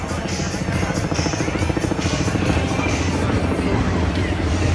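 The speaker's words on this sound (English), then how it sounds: "But helicopters are flying above." Helicopters hovering over Brooklyn in New York City give a steady, pulsing rotor thump across the whole stretch, under street hubbub and some talk.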